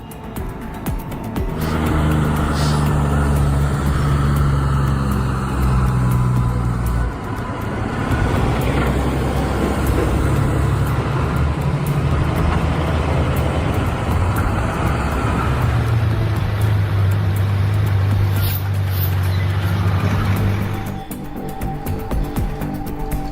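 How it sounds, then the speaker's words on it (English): A convoy of Mack, Kenworth and Volvo heavy haulage trucks drives past with a steady, loud engine drone and low rumble, continuous throughout without speech. "Leading the convoy are Mack, Kenworth, and Volvo trucks, brands well known in the heavy haulage industry."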